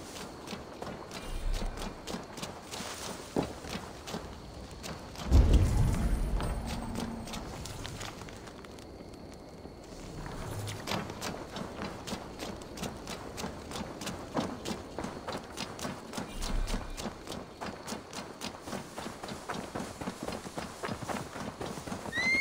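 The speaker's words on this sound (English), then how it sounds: "Now to deliver Magni his horse" Horse hooves clip-clop in the Viking-era game Assassin's Creed Valhalla, a steady stream of hoofbeats with a louder thump near the start, running under the game's ambient sound and music, with no talking.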